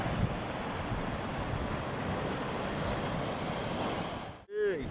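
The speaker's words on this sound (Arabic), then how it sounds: "طبعا زي ما انتم شايفين كده الموج عالي" High sea waves breaking on a beach where people fish, giving a steady, loud roar of surf with heavy wind buffeting the microphone throughout, which cuts off abruptly near the end.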